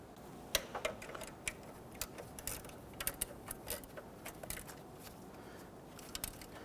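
Quick ratcheting clicks from a wrench snugging the belt tensioner bolts on a 1992-1996 Toyota Camry 2.2L four-cylinder, a light irregular ticking that runs steadily through the whole stretch at close range.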